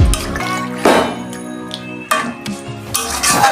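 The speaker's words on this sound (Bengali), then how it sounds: "অল্প পরিমাণ জল দিচ্ছি" A small amount of water is poured into a cooking pot of boiled jackfruit and potatoes, with short splashes and clinks of metal cookware, fairly close and with no talking.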